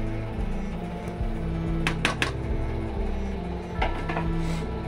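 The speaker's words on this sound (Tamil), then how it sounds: "அதுக்கப்புறமா வெட்டின தக்காளி போட போகிறோம்." Chopped tomatoes tumble into a pan of biryani with a few clattering knocks of metal and a dull scrape, over a low background hum and no talking.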